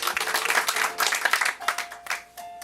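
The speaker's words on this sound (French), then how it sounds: "On l'applaudit, mesdames et messieurs." An audience claps for a reader at an evening gathering, a lively patter of hands that thins and becomes more scattered toward the end, with a faint tone running beneath.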